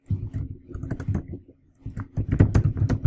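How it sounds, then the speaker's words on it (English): Rapid computer keyboard typing, clicking in dense irregular bursts, with a brief pause midway before a louder, busier flurry of keystrokes; close and fairly loud, no voices. "Just typing it out."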